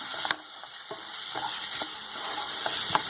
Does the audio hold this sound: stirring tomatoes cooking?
yes